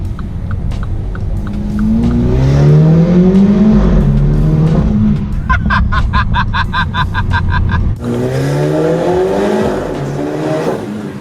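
A Mini Cooper S convertible fitted with a Remus catback exhaust revs and accelerates hard through a tunnel, its loud engine note rising and echoing, with a rapid burst of exhaust crackles and pops in the middle before it pulls away again.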